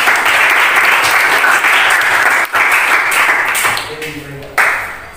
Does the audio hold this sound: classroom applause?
yes